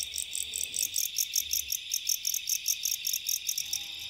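Crickets chirp in a rapid, pulsing rhythm, a steady high-pitched trill repeating in regular bursts, with no talking.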